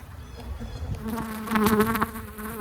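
Honeybees buzz around an open hive during an inspection, a close, wavering drone that swells as individual bees fly near, continuous with no talk over it.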